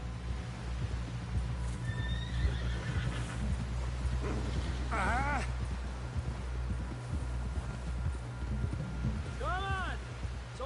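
Horse in the Red Dead Redemption 2 video game neighing and whinnying twice over steady galloping hoofbeats and a low engine-like rumble, with brief talk in between.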